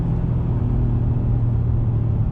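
A 2019 Acura MDX A-Spec SUV engine drones steadily while driving, a loud, constant low rumble from inside the cabin with no talking.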